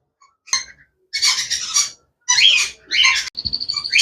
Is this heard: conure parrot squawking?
yes